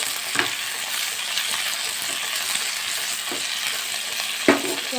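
Steady, loud sizzling of vegetables with green chillies, coriander and mint frying in a pan, with occasional scrapes and knocks as they are stirred.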